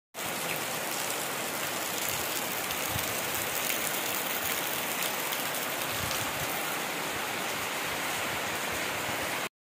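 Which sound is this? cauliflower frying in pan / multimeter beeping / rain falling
rain falling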